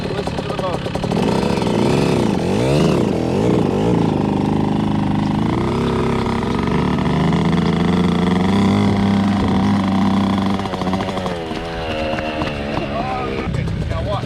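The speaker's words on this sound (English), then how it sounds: "Watch my clutch and listen to the motor." A Yamaha YZ dirt bike, either a 2021 YZ85 or a 2018 YZ65, runs close by with a steady engine drone whose pitch rises and falls as the clutch is worked. Voices speak over it.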